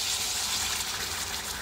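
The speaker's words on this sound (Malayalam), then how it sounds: "ആ കൂട്ടി ബട്ടറിലേക്ക് ഒഴിക്കണം." Ground onion and tomato paste is poured into hot butter while making butter paneer, producing a loud, continuous wet rush and sizzle, close and unbroken throughout.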